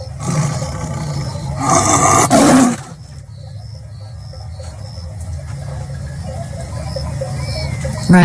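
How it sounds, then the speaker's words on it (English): A lion roars in a loud, rough burst lasting about two seconds, set against steady background noise with faint chirps afterward. "Lion."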